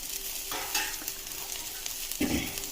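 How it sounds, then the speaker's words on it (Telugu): Crushed garlic cloves fry in a pan with a steady soft sizzle, broken by two distinct scraping stirs of a spoon close by, with no talking. "ఇప్పుడు ఈ దంచి పెట్టుకున్న వెల్లుల్లి రెబ్బల్ని యాడ్ చేద్దాం"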